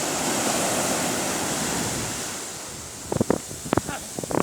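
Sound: sea waves breaking on the shore in Alanya

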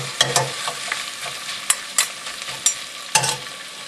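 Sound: braised short ribs sizzling in a pan

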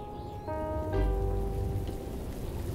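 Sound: rain falling, cartoon

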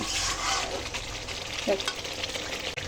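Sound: ginger-tomato-cashew paste frying in a wok

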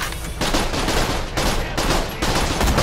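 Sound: gunfire from a video game

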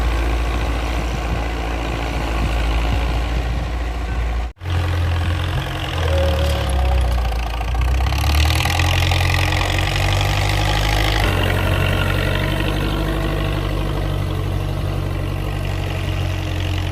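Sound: tractor engine running

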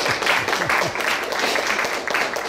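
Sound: audience applause for a speaker

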